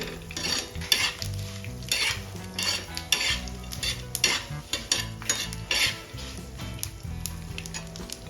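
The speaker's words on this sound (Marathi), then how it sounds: "आता आपल्याला हे सर्व साहित्य व्यवस्थित मिक्स करून घ्यायचं आहे आणि छान भाजून घ्यायचं आहे ऑइलमध्ये" Whole spices, including shahjira (caraway), are stirred and roasted in hot oil in a pan, with a steady sizzle under repeated scraping and clinking of a spoon against the metal, close and busy, with no voices.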